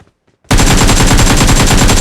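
AKM rifle fire in PUBG Mobile bursts in after a brief quiet: a loud, close, rapid automatic stream of shots in tight rhythm lasting to the end.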